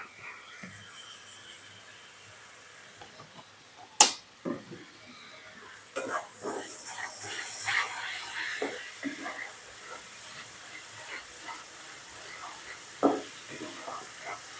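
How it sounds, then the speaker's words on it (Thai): Shrimp stir-frying in a garlic pepper sauce after a splash of water, giving a steady soft hiss and sizzle with a few sharp clinks of a spatula on the pan, close by, with a voice speaking briefly. "ผัดให้เข้ากันค่ะ เติมน้ำอีกนิดนึงค่ะ"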